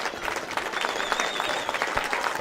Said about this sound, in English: a round of applause for Christian Felix as he gets helped across the